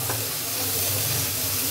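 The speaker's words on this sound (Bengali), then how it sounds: "এখন ভালো করে আবার নাড়াচাড়া দিয়ে মিশিয়ে দিতেছি।" Egg filling with plenty of coriander leaves being stirred in a hot pan for a pitha stuffing, a steady close sizzle and hiss with soft low scraping underneath, continuous and unbroken with no voices.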